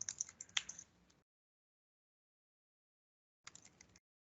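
A computer keyboard being typed on in two short bursts of rapid, light keystrokes, with a silent gap between them, close and quiet.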